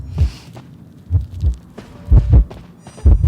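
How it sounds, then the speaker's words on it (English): A heavy, low double-thump heartbeat throbs in a steady rhythm, loud and close, serving as a proximity warning in a video game, with no talk over it. "I get heartbeat, and I'm a little nervous."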